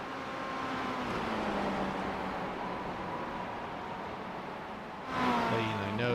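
A race car is driven hard around the Summit Point circuit, its engine droning steadily and loudly with a broad roar, then surging into a sharper, higher note near the end.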